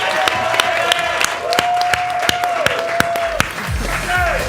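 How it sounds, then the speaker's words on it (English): An audience at a live showdown claps and cheers under a host's amplified voice, with sharp individual claps and scattered whoops punctuating the talk. "Keep that applause going for Jay"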